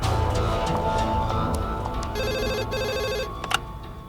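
Telephone ringing during a call, an electronic ring tone pulsing in two clear repeated bursts over a low background murmur, followed by a brief click.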